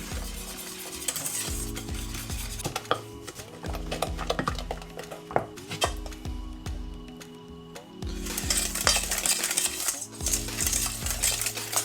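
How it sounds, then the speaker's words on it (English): Crème pâtissière whisked in a pan over low heat, a wire whisk rattling and clinking against the metal in fast, continuous rhythmic strokes, close and steady with a soft background hum. "We just take our whisk and we just keep whisking until it thickens up, just under a low heat at the moment."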